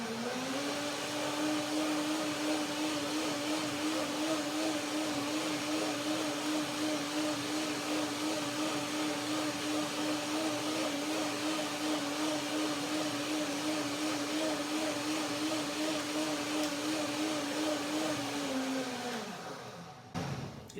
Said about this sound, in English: Now, I will blend it right away.